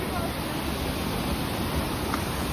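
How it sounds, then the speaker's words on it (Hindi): Mountain waterfall in Chakrata, Uttarakhand, a steady broadband rush of falling water filling the scene throughout, with no clear voices over it. "ये देखो भाई झरना"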